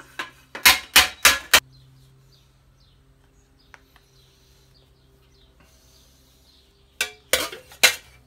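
A hammer strikes a spring steel greave in two quick clusters of sharp, ringing metallic blows, raising the metal and knocking out dents, separated by a quiet stretch of faint workshop hum.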